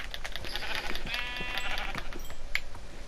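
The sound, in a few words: sheep bleating in video game Minecraft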